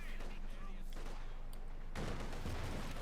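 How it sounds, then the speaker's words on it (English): Rapid gunfire and explosive bursts from a T-70 tank's 45mm gun and infantry battle in Company of Heroes 2, dense overlapping cracks and booms over a busy mix, with commentary talk underneath. "got the T-70 opening up in the Grenadiers, so there's 45mm gun tearing into them"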